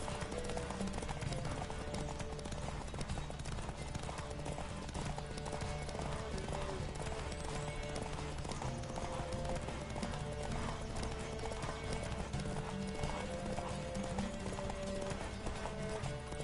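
Rapid, steady hoofbeats of a galloping horse in The Witcher 3 video game pound on without a break, loud and close, with a busy background mix.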